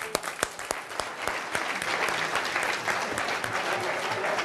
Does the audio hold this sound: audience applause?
yes